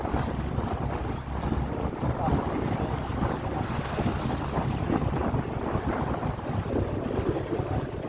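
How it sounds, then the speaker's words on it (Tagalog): A ship departing Suomenlinna churns through water under steady wind rumble and lapping waves, a continuous low roar without pauses. "Ayun, umalis ang barko lit."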